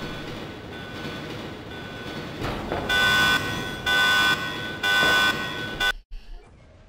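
A train in a Resident Evil game mod rumbles steadily while a loud alarm-like tone pulses three times in regular bursts over it, then the sound cuts off abruptly.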